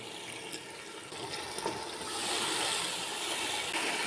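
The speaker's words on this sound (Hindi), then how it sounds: "थोड़ा सा पानी शामिल करेंगे।" Water pours into a cooking pot of spiced matar pulao masala, a soft continuous splashing trickle that grows slightly fuller toward the end, close by with no voices.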